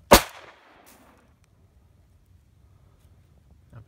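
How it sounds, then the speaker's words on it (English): An Ekol Special 99 blank pistol fires a single sharp, loud test shot right at the start, its crack decaying quickly into quiet low background rumble, with a faint rustle near the end. "fire in the hole"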